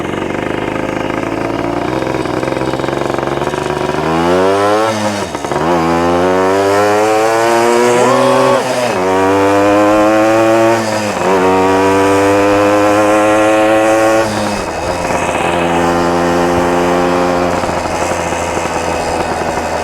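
A Suzuki RV motorcycle engine revs up and down repeatedly as it is ridden and downshifted. The engine is loud and close, and no talk is heard.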